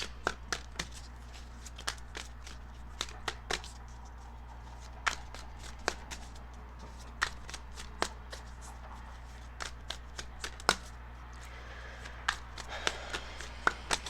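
Tarot cards being shuffled by hand, a run of crisp riffling snaps and flicks in an irregular rhythm, close and fairly quiet over a low steady hum, with no talking.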